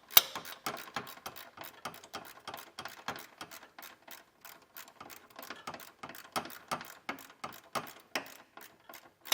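A hand ratchet works on a bracket bolt on a 2020 Toyota Highlander frame, rapid, quiet close clicking in bursts of strokes with short pauses between, no voices.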